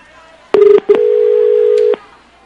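A telephone dials out during a live TV variety show giving away phones, producing loud, close touch-tone beeps: a quick cluster of short tones, then one sustained tone lasting about a second.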